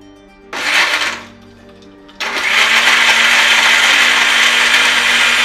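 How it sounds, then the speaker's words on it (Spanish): A blender whirs briefly, stops, then starts again and runs loud and steady with a high motor whine, blending a leche de tigre mixture for Peruvian ceviche. "Ya tengo mi licuadora lista, vamos a destaparla para echar la mezcla"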